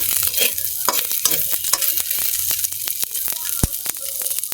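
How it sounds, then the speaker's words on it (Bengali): Chanda dry fish frying in a pan, with a steady sizzle and sharp clinks and scrapes as the pieces are turned over, close and continuous throughout. "আমি চান্দা শুটকিগুলো উল্টে দিব।"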